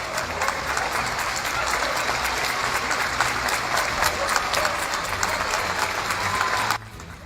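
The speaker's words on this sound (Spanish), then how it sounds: "Bueno, estamos aplaudiendo todos." Crowds clap from apartment balconies across a neighbourhood at night during a national quarantine, a dense, steady wash of many hands that continues for several seconds and then cuts off abruptly near the end.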